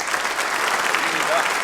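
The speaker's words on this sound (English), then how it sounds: "we're going to keep that round of applause going for Ben Toms and for Nick" A conference audience applauds, a dense wash of clapping that runs through the whole short stretch without pause.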